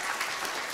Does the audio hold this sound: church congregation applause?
yes